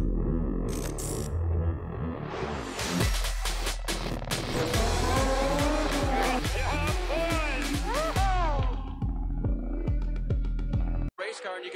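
A Ford race car's engine roars and revs with rising and falling pitch sweeps over several seconds, loud and close, mixed with a commentator talking over it.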